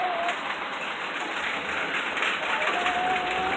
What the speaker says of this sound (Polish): bardzo dobrze, że pada.